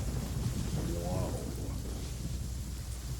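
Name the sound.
thunder sound effect in Genshin Impact video game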